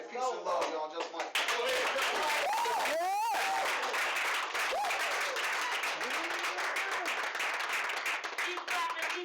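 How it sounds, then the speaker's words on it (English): Crowd clapping at an open mic night, dense and sustained, with voices and cheering mixed in over it. "Keep clapping, keep clapping,"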